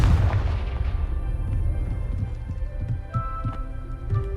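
A Confringo blasting spell in Hogwarts Legacy goes off with a loud, booming blast that rolls into a rumbling tail, followed by a few lighter thuds and impacts.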